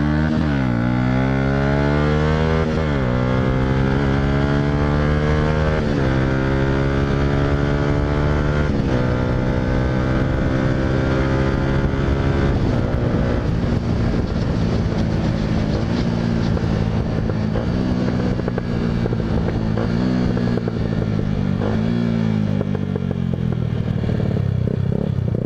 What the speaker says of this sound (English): I love my exhaust, it just pops like mad